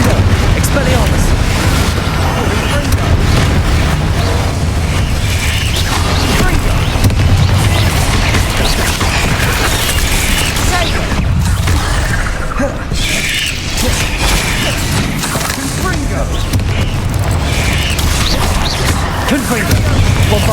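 The Confringo and Bombarda explosion spells in Hogwarts Legacy set off loud, repeated booms and crashing, shattering blasts that overlap continuously, with a voice speaking between them.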